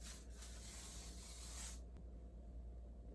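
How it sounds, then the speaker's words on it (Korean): A single sustained hiss of hair spray aimed at curled, wavy bangs for hold, lasting just under two seconds before cutting off into quiet room tone, close and fairly soft. "이 부분에만 충분히 스프레이로 고정시켜 주셔도 이 컬이 유지되거든요"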